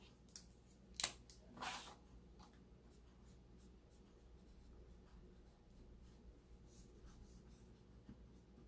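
A pen writing the transfer name on the back of a Chalk Couture backing sheet, with a few close, quiet scratchy strokes early on, then faint rustling in a still room.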